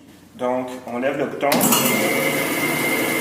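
A band saw for cutting wood switches on and runs with a steady, loud whirring drone, after a short stretch of speech and the click of the start button.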